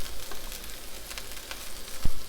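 A veggie burger patty sizzles in an oiled pan, a soft steady hiss with faint crackles and a single dull thump near the end.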